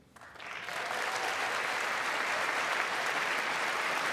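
Audience applause in the chamber at the 2026 State of the Union address, swelling from a quieter start into sustained, loud, dense clapping that holds steady to the end.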